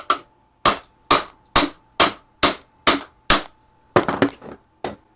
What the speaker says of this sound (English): Some hammer blows.